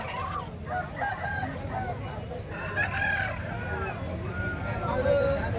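A rooster crows nearby at a hen market, its drawn-out call rising over a steady hum of background noise and murmuring voices.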